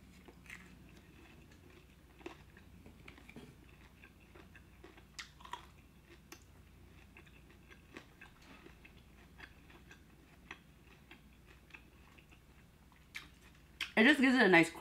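Someone eats creamy onion Korean fried chicken with soaked onions. Faint, close crunchy bites and chewing tick along irregularly, ending in a brief louder burst.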